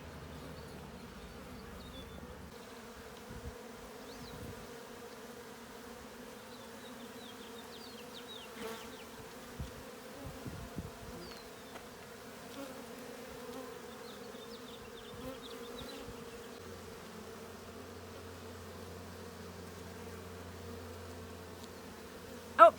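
Honey bees buzz steadily and softly during a hive inspection, a continuous low drone with faint passing hums and a few light handling knocks, no voices heard.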